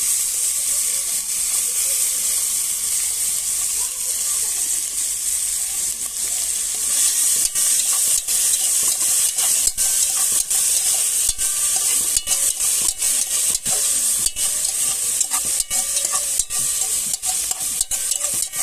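Peppers cooking in a pan in a tent kitchen, turned with a utensil: constant loud sizzle and hiss with frequent scraping clicks throughout.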